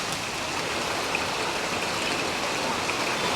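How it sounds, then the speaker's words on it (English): Heavy rain falls steadily outside near Shivasamudra, a dense, even hiss of downpour that holds at a constant loud level throughout with no voices. "outside you can see it is raining, heavy rain."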